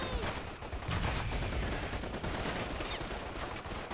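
Dense, sustained automatic gunfire from a World War II machine gun in Call of Duty 2, a continuous rattling barrage with no break across the whole stretch and faint voices beneath it.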